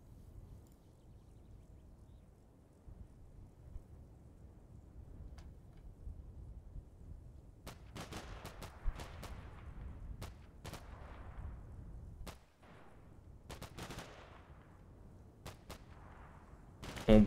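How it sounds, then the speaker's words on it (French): Machine gun fire in the wargame Combat Mission Shock Force 2, distant bursts of rapid crackling shots clustered in the second half, over a low rumbling background, with a heavier thump at the very end. "une mitrailleuse"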